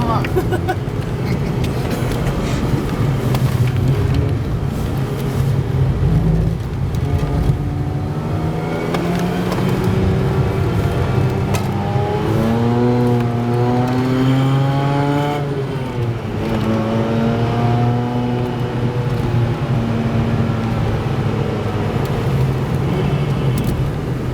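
A Mazda RX-8 on the wet Nordschleife, its engine droning steadily and then rising and falling in pitch through braking and acceleration, heard from inside the cabin with someone talking over it throughout.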